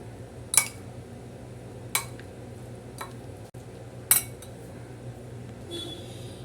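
A spoon clinks against a bowl while mixing egg chapati roll filling made with pepper powder, crushed dried chilli and mayonnaise: a few sharp, separate taps spaced over several seconds against a quiet kitchen background.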